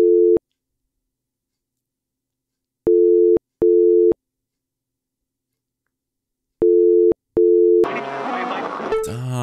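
A telephone busy signal in the video game Simulacra, clear repeating tone bursts in short groups separated by silent gaps, followed by a burst of noisy garbled static at the end.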